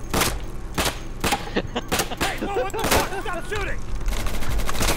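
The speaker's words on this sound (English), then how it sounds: "Shooting!" Rapid gunfire in the tactical shooter Insurgency, with repeated bursts and single shots over steady game background noise. Shouting voices overlap the shots partway through.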